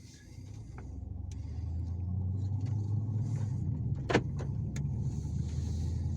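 Riding inside a BMW 135i as it pulls away, a low engine rumble builds and then holds steady, with a few light clicks and a brief creak over the cabin drone.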